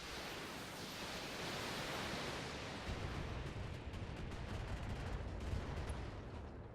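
Mech weapons firing in the BattleTech video game: a roaring wash of blasts and rumbling impacts, with a burst of rapid crackling shots toward the end, loud and continuous.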